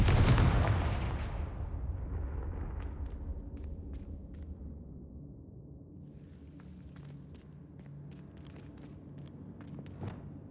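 A Confringo blasting curse detonates in the video game Hogwarts Legacy, a loud booming explosion at the start that rumbles and fades, followed by faint scattered clicks and crackles.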